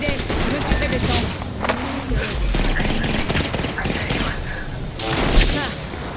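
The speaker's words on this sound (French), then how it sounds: "Deuxième escouade nous tire dessus." Video game firefight with an enemy squad shooting, rapid bursts and booming shots over about six seconds alongside talk and game effects, with a louder heavy blast near the end.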